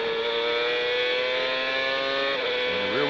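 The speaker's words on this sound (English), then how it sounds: "If you hear the engine go quiet, that's the rear tires locking." A Newman/Haas IndyCar engine screams at a steady high pitch, then drops and wavers near the end as the rear tires lock under braking, heard loud and continuous from trackside.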